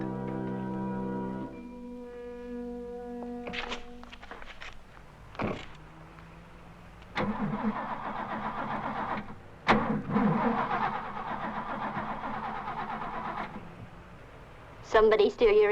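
A car engine in a 1971 film scene cranks and catches after a faint tonal passage, then runs at a rough idle with clunks and bursts of revving, with voices briefly heard.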